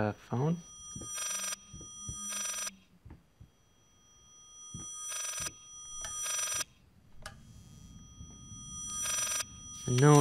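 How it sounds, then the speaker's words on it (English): Old-fashioned telephone bell ringing in bursts inside the Layers of Fear horror game, several loud repeated rings separated by pauses, with someone talking and reacting between them. "Is that like a phone?"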